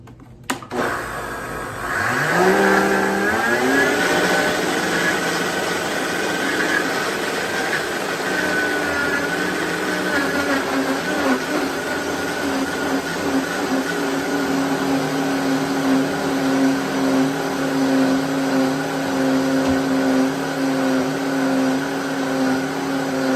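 A high-powered Vitamix blender whirs up avocado cucumber soup, starting with a sharp click and a rising motor whine. It settles into a loud, steady roar that lasts throughout, with slight shifts in pitch as the contents churn.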